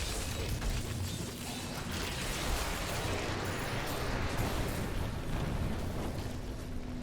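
Explosions from a Diablo III dungeon fight against zombies, a dense continuous barrage of bursts and rumbling blasts that stays loud and close for several seconds without speech.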